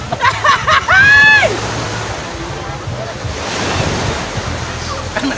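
Ocean waves wash onto a shore at the sea, a steady surf roar with wind buffeting the microphone; a few high-pitched sounds and brief voices appear near the start.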